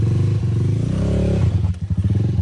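A motorcycle with a Rusi 175 engine on an XTZ-type frame climbs a rocky trail, its engine loud and close with a steady throaty drone, then rough uneven revving near the end.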